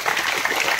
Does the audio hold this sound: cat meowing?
no